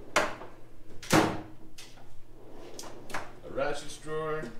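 A drawer on a Snap-On tool chest in a diesel tech college tool room slides open, with a couple of sharp metallic clunks and a rolling rattle. Someone speaks briefly in the middle.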